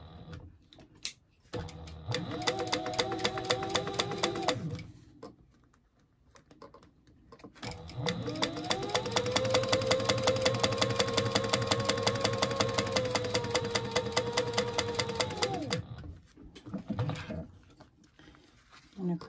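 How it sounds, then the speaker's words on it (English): A sewing machine runs down the side seams of fabric at a quarter-inch allowance, two sustained whirring passes of a few seconds and about eight seconds with a faint rising and falling motor pitch, close and clear. "we're just going to sew down our sides. At a 1/4 inch seam allowance"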